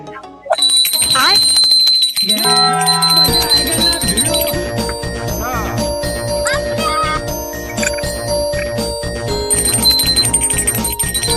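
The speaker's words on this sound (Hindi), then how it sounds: "घर भर में गंगा जल छिड़का जा रहा है, घंटी बजाई जा रही है" A small hand bell rings continuously during a household ritual of sprinkling Ganga water through the home, bright metallic ringing layered over music and other sounds, loud and close.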